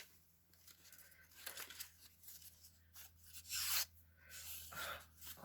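Scissors snip and rub through material for a small box prototype, quiet close crinkling and cutting strokes with a louder rasping burst near the middle, no talking.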